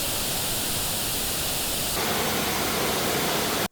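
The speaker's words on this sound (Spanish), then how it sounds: "el altavoz se le envía una señal de ruido rosa, un sonido parecido al de la lluvia o una cascada" Pink noise test signal played through a loudspeaker, a steady broadband hiss like rain or a waterfall that shifts in level partway through, then cuts off abruptly at the end.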